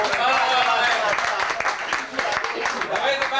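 Steady applause and clapping from an audience at a live event, dense and continuous throughout with no break.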